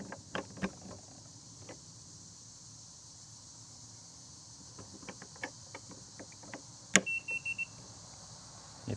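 A Latch It keyless RV door lock gives a short run of electronic beeps near the end, following a single sharp click, against a quiet background with faint scattered handling noises.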